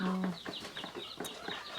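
Chickens in a Thai backyard chicken coop, a few short clucks and fowl calls close by, brief and moderately loud.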